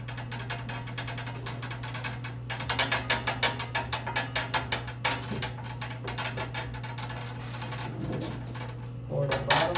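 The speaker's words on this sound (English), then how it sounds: "I'm going to clamp this" Ratcheting clamp tightened during the glue-up of a wooden spice rack: a rapid series of sharp mechanical clicks close by, steady for several seconds, over a constant low hum.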